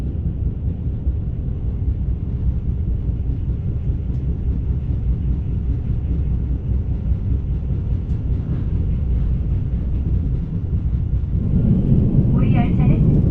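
A Saemaeul train rolls slowly through a station on the Jungang Line, a steady low rumble of wheels and running gear holding throughout, swelling louder near the end with a brief higher screech.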